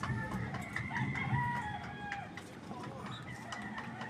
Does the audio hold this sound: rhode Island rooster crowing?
yes